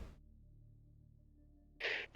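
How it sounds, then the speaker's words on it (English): A person sneezes at home near a cat: a short wind-up breath followed by one sharp, loud burst, close to the listener, after a mostly quiet stretch. "I'm gonna sneeze again."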